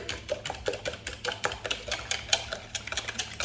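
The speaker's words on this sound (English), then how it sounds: "So I get a little whisk of the egg" Rapid whisking of eggs in a bowl for homemade cornbread: a steady run of quick, light clicking strokes, close and fairly soft, with no talking.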